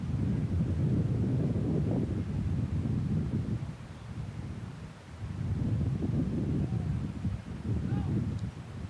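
Steady roaring wind buffets an outdoor microphone at a junior-varsity college football game, a loud low rumble that swells and dips, easing briefly near the middle before gusting back up.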